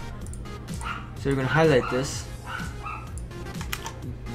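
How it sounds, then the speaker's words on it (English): A dog barks indoors in a room, a short burst of yips near the middle, while someone talks and a computer keyboard clicks. "sorry about the dog."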